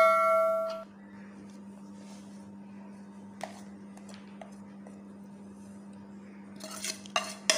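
Metal utensils clink against a pan as spices go in for beef boti. A brief ringing tone opens the clip, then a few faint clinks sound over a low steady hum, with a livelier clatter near the end.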